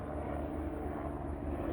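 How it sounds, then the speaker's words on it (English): Steady low engine drone of an aircraft passing overhead, a continuous rumble at moderate distance with no voices. "I think it's a helicopter."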